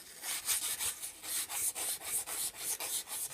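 Metal is sanded with 600 grit wet/dry sandpaper to prepare a surface for soldering, giving steady back-and-forth rasping strokes in an even rhythm, close but quiet.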